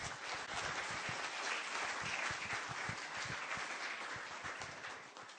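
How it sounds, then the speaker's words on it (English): Steady applause from a crowd, many hands clapping together at an even level before gradually tapering off toward the end. "Can I have another round of applause there for you guys?"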